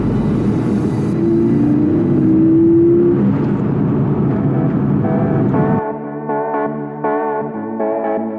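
A McLaren GT car cruising on North Yorkshire roads, its steady engine drone and road rumble loud and close, settling into a lower, harmonic hum partway through.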